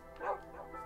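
A single faint, short bark-like yelp from a dog in the video game Minecraft, small and muffled against a quiet background.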